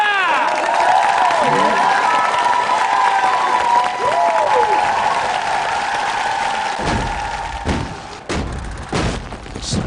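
Audience applause and cheering at a Korean talent-show competition, a broad crowd roar filling most of the stretch with a sustained tone and some thumps over it, thinning toward the end.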